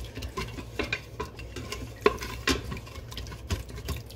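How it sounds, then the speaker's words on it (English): A wooden spatula scrapes and stirs crispy bits loose from the bottom of a pot during steam cooking, giving irregular rough scraping strokes with occasional sharper knocks, close and fairly loud. "I will use my wooden spatula to stir up the crispiness that is on the bottom of the pot"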